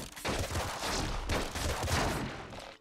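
Gunfire in a video game rattles in a quiet, steady fusillade of repeated shots lasting a few seconds, with no talking over it.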